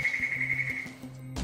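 A correct-answer tone from an on-screen memory test game: a steady electronic whistle-like tone held for about a second, alone and fairly clear, ending with a soft click.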